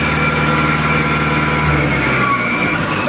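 A Mahindra Arjun 605 tractor's diesel engine runs loud and close with a steady, heavy throbbing drone as it is revved.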